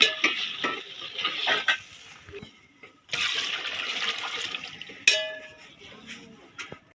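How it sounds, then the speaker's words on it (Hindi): Water pours from a bucket into a pot of fried chickpeas for chana pulao, hissing and sizzling loudly in bursts, with stirring and pan clatter between pours. "अब हम इसमें पानी डालेंगे।"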